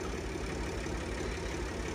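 A Turkish-made tractor powering a mini cotton mill idles steadily, its low, even engine chug thrumming at a constant pace and moderately distant, with no voices.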